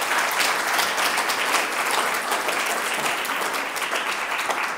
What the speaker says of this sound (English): please join with me in giving them a round of applause